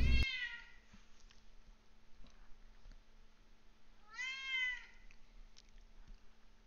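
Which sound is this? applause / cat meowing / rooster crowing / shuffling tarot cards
cat meowing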